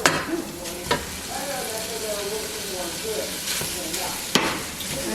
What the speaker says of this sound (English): So I'm gonna put in the ground beef, and then just to